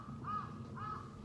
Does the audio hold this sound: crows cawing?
yes